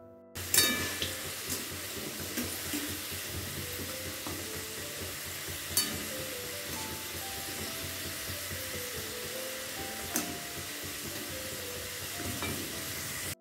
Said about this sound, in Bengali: ছাকা তেলে ভেজে নেব